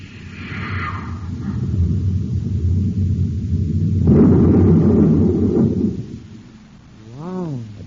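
A space torpedo strikes its target in an old sci-fi radio drama, a deep rumbling roar swelling into a heavy, sustained blast before fading, with a short warbling electronic tone after.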